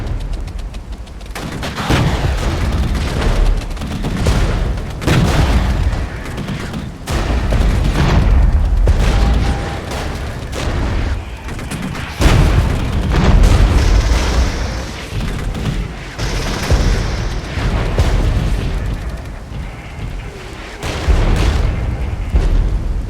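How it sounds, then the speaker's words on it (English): Artillery fire and explosions in the strategy video game Regiments: repeated heavy booms and rumbling blasts, mixed with crackling gunfire, roll on continuously and loudly for the whole stretch with no talking. "Comes the artillery."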